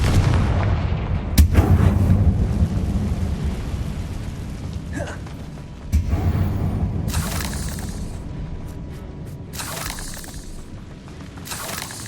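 Spell blasts from Confringo fire in the video game Hogwarts Legacy: heavy, booming explosions land at about 1.5 and 6 seconds over a rumbling battle bed, with sharper crackling bursts flaring between 7 and 10 seconds.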